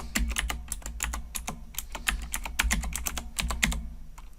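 Rapid, irregular clatter of computer keyboard keys being typed on, close and steady throughout with no talk, set against a low constant hum.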